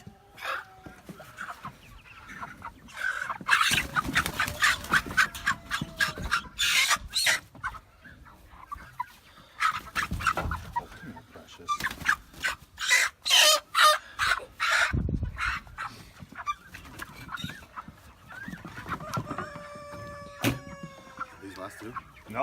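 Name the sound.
chickens clucking and rooster crowing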